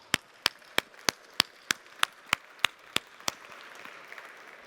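A seminar audience at a talk on tax loopholes claps in slow unison, about ten sharp, evenly spaced claps, before fading into scattered light applause and room noise.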